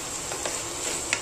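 Moong sprout masala sizzles steadily in hot oil in a pan as it fries until the oil separates, a continuous close crackling hiss with a few brief louder pops.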